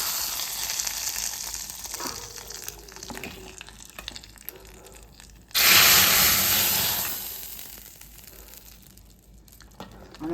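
Tempering of onion, cinnamon, chilli and mustard seeds in hot oil for sambar: steady light sizzle, then a sudden loud hiss as it hits, fading slowly over several seconds.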